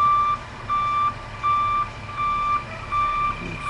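Reversing beeps from a truck positioned behind an old house being moved: about five steady, evenly spaced electronic tones with short pauses between them, loud and clear over a low outdoor hum.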